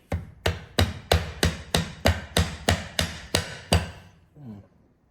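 About a dozen evenly spaced soft-hammer strikes on a lathe, sharp and close, in a steady rhythm, followed by a faint clatter and quiet.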